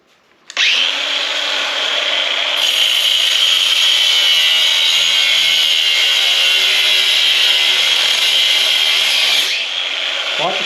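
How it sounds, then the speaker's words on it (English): A power tool saws through a cheap metal bracket for a TV cable mount, a loud continuous grinding whine starting abruptly and holding steady for about nine seconds before easing off. "Power tools."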